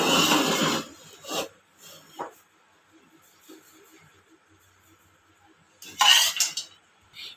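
Cashews and peanuts are dry roasted in a kadai. Short bursts of scraping and rattling from stirring come in several bursts, with quiet gaps between them.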